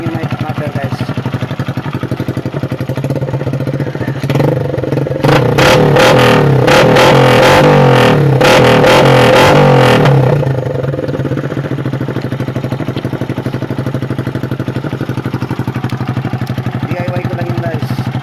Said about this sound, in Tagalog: Testing natin yung muffler